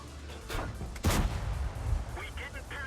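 Tank cannon shots in a tank video game sound as two heavy booms, the second louder and followed by a rumbling tail, set over a steady low engine drone.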